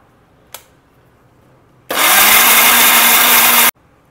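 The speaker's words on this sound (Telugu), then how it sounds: "సో మరిగించి ఇవి ఆరిపోయాయి, మిక్సీకి వేస్తున్నా" A kitchen mixer grinder whirs loudly for about two seconds, grinding boiled black pepper into a paste; a single sharp tap comes first, then the motor starts and stops abruptly.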